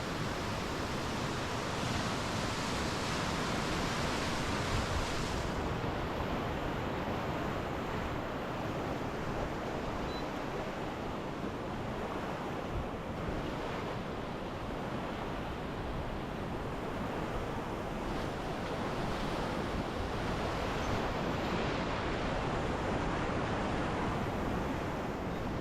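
A river rapid on the Middle Fork roars as a sweep boat runs it, a constant loud rushing wash of white water with no talk, steady throughout.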